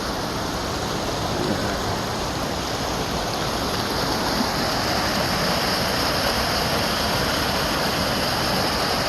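A river rushing along the East Inlet Trail in Rocky Mountain National Park, steady, loud and close, a full-band wash of flowing water with no pauses.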